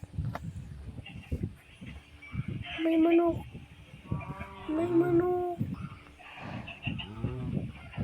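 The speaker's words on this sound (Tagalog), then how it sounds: "Ano naririnig nyo yun, guys? May manok." Chickens cluck and squawk at close range in several loud bursts, with a busy farmyard and scattered voices around them.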